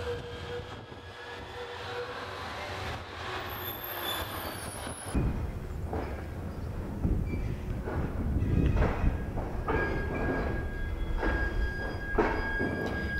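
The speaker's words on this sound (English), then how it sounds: "worked by 15 Alstom Cityway trams. They're in poor general external condition and also sound in poor condition." Alstom Cityway trams in poor condition running in Sicily, a steady loud rumble of wheels and motors with a brief high squeal early on, continuous throughout.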